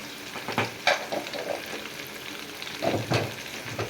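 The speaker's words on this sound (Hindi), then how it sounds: "इनको थोड़ा सा भून लें मसालों को" Chicken and potatoes fry with turmeric, salt and spices for an aloo chicken curry, giving a steady close sizzle broken by a few louder bursts of scraping as they are stirred.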